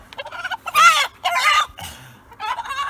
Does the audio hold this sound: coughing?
no